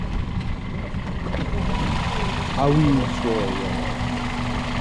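A Toyota Celica engine idles steadily with a low rumbling drone, close by, while someone speaks briefly over it.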